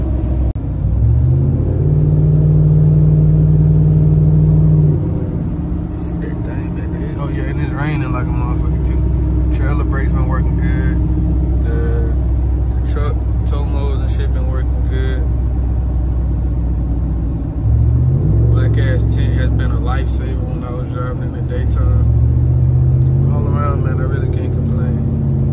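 A Ford F-150 pickup on 37-inch tires and 26x14 wheels driving through hills, its engine a loud, steady low rumble that surges with acceleration twice, while someone talks over it throughout.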